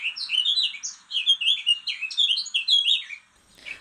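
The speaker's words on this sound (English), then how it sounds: "Blackcap song. A varied song of 20 to 40 short fluty notes, often confused with garden warbler." A blackcap's song, a varied run of short fluty notes, plays loud and clear as a sample from a bird app, in two bursts with a brief pause.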